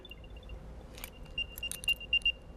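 An Apple AirTag on a set of keys plays its locating chime: a few short, bright tonal beeps that grow louder toward the end, heard alone over a quiet room background.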